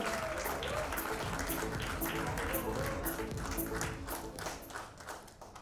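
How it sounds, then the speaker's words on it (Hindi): Audience applause at a press conference in Dubai for a live concert, dense clapping sustained throughout at moderate level, fading slightly toward the end with some voices mixed in. "एक बार जोरदार तालियां हो जाए, लेडीज एंड जेंटलमैन"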